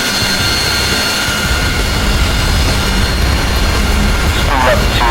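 Fighter jet engine spooling up at full power with brakes held before takeoff in the DCS World flight simulator: a loud, steady roar with high whine tones running throughout, with talk over the top.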